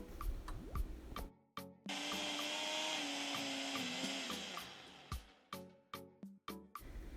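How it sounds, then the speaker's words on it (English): A blender blending chopped scallions with a little water whirs loudly for a few seconds, bracketed by sharp clicks and knocks as it starts and stops, close up with no talk. "add 1 tablespoon of water just to help move those blades in the blender and blend into a chunky consistency"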